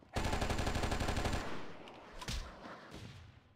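Automatic gunfire in the Oni video game aimed at civilians: a dense, loud burst of rapid shots for over a second, followed by a few scattered single shots and quieter noise.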